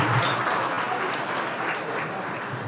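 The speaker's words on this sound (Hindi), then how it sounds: "एक बार जमुना के लिए जोरदार तालियां बजा दो।" Steady applause from a school gathering or youth event audience, honoring a student named Jamuna; dense, continuous clapping from many hands filling the room at close range, with no talking over it.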